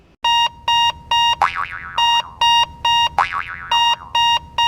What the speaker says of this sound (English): do you know what the smoke alarm in your house sounds like?